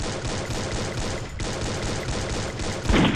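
An M14 rifle in Garena Free Fire, updated to fire three rounds per shot, rattles off rapid, loud bursts of gunfire one after another, with a short lull near the middle and a sharper blast at the end.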